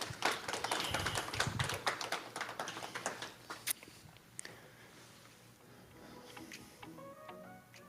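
An audience claps at a climate action event, a dense patter of many hands that is strongest at first and then thins out into scattered claps, heard from across the room.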